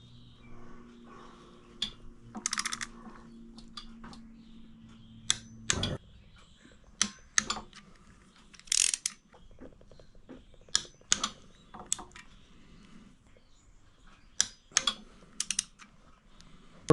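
A torque wrench tightening screws on a bike gives a scattered series of short, sharp clicks and ticks, fairly close and quiet, with small handling noises between them.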